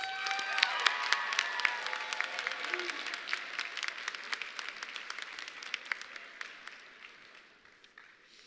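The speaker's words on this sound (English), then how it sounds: "Let's give him another round of applause." Audience applause at a SkillsUSA Michigan opening session, a broad crowd clapping steadily at moderate level before tapering off toward the end.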